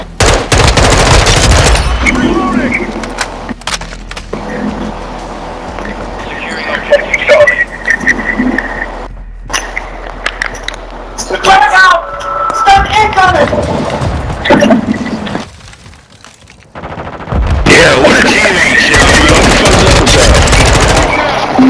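Video game gunfire from Call of Duty: Modern Warfare II, with dense bursts of automatic fire, explosions and crackling shots, loud and close, mixed with game sounds and player voices talking over it, with a short lull near the middle.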